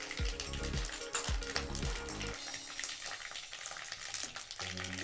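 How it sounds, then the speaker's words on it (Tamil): Mustard seeds splutter and pop in hot oil in a pan alongside chillies and asafoetida, tempering for temple-style tamarind rice; dense crackling sizzle fills the clip with louder bursts early on, no talking. "கடுகு நல்லா பொரியட்டும், நல்லா பொரிஞ்சிடுச்சு"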